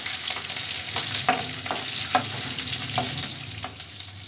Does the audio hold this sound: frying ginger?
yes